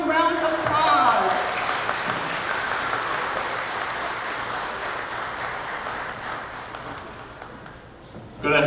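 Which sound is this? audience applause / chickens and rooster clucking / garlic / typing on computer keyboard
audience applause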